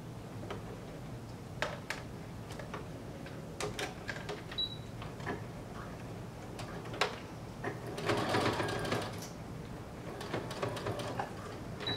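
A sewing machine stitches a blazer collar, a faint run of quick mechanical ticks and taps, growing busier and louder for a couple of seconds near the end.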